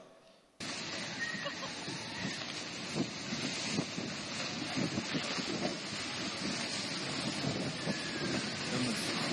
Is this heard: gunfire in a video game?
no